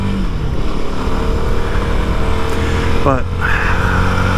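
A 2023 CFMOTO 300SS sport motorcycle engine while riding, a steady loud drone with heavy wind rush throughout, as someone briefly speaks.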